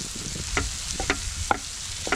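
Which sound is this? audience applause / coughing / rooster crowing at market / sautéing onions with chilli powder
sautéing onions with chilli powder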